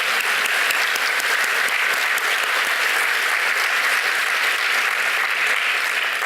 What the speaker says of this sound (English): Could I just ask for everybody to give them an applause